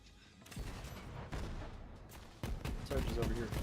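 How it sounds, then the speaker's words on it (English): Gunfire from Sarge, an enemy in Borderlands 3, crackling like firecrackers: a few sharp broadband bursts at irregular intervals, then a denser rattling volley near the end, moderately loud against a busy game backdrop. "Sarge is over here firing firecrackers at us"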